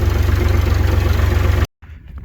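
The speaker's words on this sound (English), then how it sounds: "Just try to keep my old tractor working." An old tractor engine runs at a steady idle with a dense low throb, loud and close, then cuts off abruptly, leaving faint background noise.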